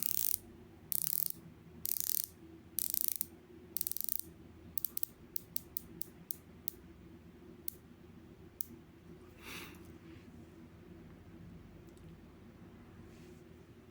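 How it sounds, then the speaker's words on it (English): The bezel of a Pagani Design GMT watch is turned by hand, giving close, faint ratcheting clicks in quick bursts at first, then single sharp clicks spaced out and slowing to a stop. "Lovely bezel action."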